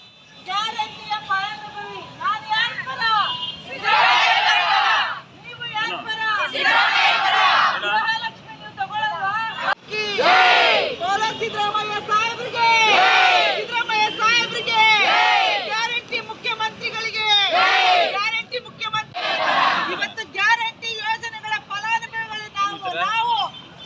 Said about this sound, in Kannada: ರಾಜ್ಯಪಾಲರ ನಡೆಯ ವಿರುದ್ಧ ಧಿಕ್ಕಾರಿಗಳನ್ನು ಕೂಗಿ ಸಿಎಂ ಪರವಾಗಿ ಜೈಕಾರನ ಹಾಕಿದ್ದಾರೆ